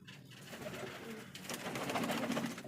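Several pigeons coo softly at close range in a loft, with low rounded calls repeating through the clip over a steady background hum and no talking.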